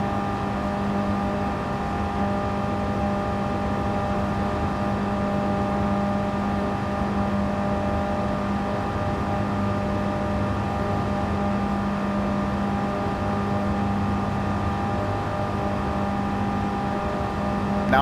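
A Mini Cooper drives laps in a racing video game, its engine a steady, loud droning hum with a sustained whine that barely changes pitch as it holds speed.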